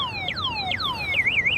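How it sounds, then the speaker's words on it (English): The anti-theft alarm of a Sondors Metacycle electric motorcycle, armed by key fob, gives three quick descending electronic chirps and then a rapid warbling tone, loud and close. "If you take the key fob and you arm it, okay, so it makes an alarm"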